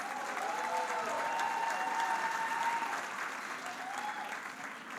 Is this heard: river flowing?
no